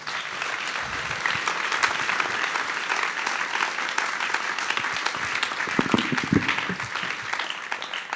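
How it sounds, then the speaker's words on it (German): Dense, sustained audience applause fills a hall at a men's Christian celebration gathering, steady clapping from a large crowd running throughout without any speech. "Ein Applaus für euch"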